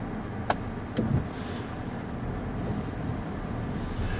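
A Nissan Qashqai drives along, its steady road and engine rumble filling the cabin with a couple of faint clicks near the start and no talking.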